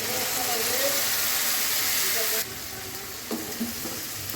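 Browned onions sizzle loudly in a pan and then drop to a softer hiss as ground spice paste goes in, with a few short stirring clatters near the end.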